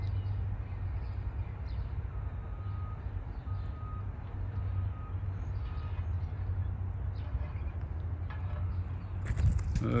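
Northbound Norfolk Southern train rumbling steadily past at Elmwood Place, a low continuous roll of wheels and cars with a brief squeal, louder toward the end, no talking.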